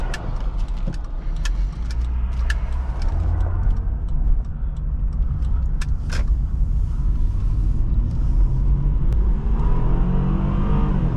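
A 2003 Acura TL 3.2 engine drones steadily from inside the cabin while driving, low rumble throughout with scattered small clicks and rattles.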